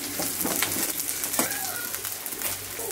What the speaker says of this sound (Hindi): तो अब इन सब चीज़ों को अब हमें हल्का सा फ्राई करना है।